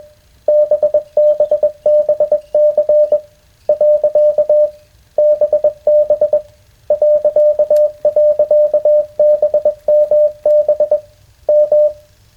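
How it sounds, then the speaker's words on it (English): A steady single-pitch tone keys on and off in rapid Morse code groups with short pauses, loud and continuous over radio. "That Morse code will drive you nuts."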